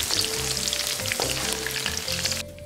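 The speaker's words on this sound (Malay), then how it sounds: "kita goreng pula bawang dan cili padi untuk sambal kicap" Shallots and bird's eye chilies frying in hot oil for a sweet soy chili sambal, a steady close crackling sizzle with occasional stirring scrapes and no speech.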